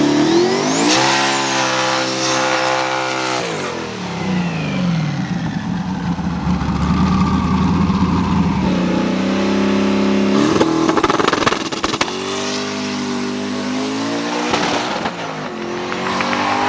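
Manual-transmission drag race cars accelerate hard and loud, engines climbing in pitch through gear shifts with brief drops between, several rising passes over about sixteen seconds.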